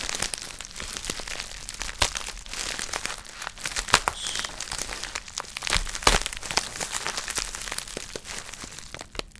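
Paper crinkles and crumples up close while a package is handled during unboxing, in irregular crisp bursts with sharp rustles and small tearing sounds, no talking.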